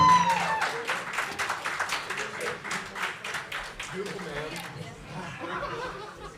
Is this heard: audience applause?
yes